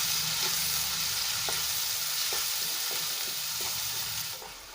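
Finely chopped onions frying in hot oil for guvar curry, a dense, steady sizzle with faint scrapes of stirring, fading slightly at the end.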